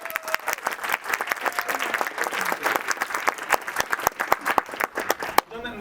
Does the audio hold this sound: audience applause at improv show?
yes